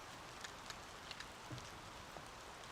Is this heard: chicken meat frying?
no